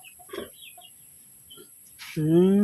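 Young farm chickens give a few soft scattered clucks and chirps close by, then one louder drawn-out rooster-like call rises at the end.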